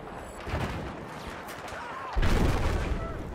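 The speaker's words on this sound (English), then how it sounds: "Let me take a pot shot on him" Gunfire in the video game Battlefield 4, a dense, rumbling barrage of shots with a heavier boom partway through, continuous and fairly loud with no clear talk.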